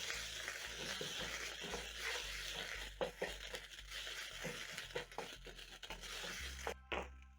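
A teaspoon of tomato paste stirred into softened onions in a pan, giving a quiet, continuous sizzle with soft scraping and crinkling stirs that come in irregular bursts. No one talks.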